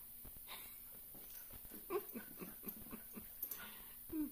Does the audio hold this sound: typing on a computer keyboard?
no